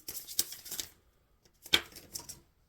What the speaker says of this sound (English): Shuffling for Capricorn.